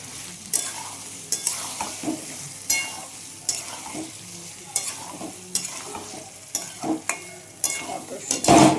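Green peas fry in a pan for aloo dum, with repeated scraping stirs of a spatula over a soft sizzle, the strokes coming in an irregular rhythm close by and the last one loudest.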